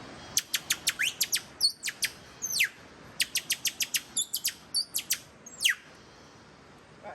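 A person imitates bird calls by blowing across a stretched piece of plastic, producing a series of sharp, high chirps and quick whistled sweeps in rhythmic bursts, fairly close and clear with no talking.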